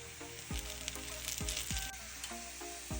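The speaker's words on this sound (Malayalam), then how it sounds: "ഒരു ടേബിൾ സ്പൂൺ പച്ച പച്ച വെളിച്ചെണ്ണയും കൂടി ഒഴിച്ച് ഒന്ന് ഇളക്കി കൊടുക്കാം" Green gram being stirred in a pan after a splash of raw coconut oil, soft sizzling frying with a few scraping spoon strokes against the pan, close and steady with no talking.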